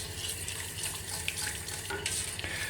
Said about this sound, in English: we're going to bring it slowly to the boil while we're stirring all the time